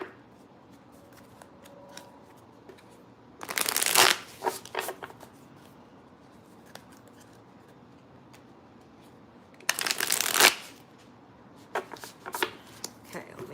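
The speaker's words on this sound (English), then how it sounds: "Just shuffle the cards." Tarot deck cards being shuffled in two loud bursts, each a couple of seconds long, with soft handling clicks and faint rustles between them and no talking.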